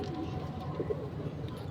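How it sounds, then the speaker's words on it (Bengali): Fancy Lahore Bombay silver pigeons cooing in a loft while sitting on eggs; soft, low, throaty coos repeat over a steady background murmur, fairly faint and close. "এটা রাজগোল্লা, এটা ডিম নিয়ে বসে আছে, সবগুলো কবুতর ডিমে আছে।"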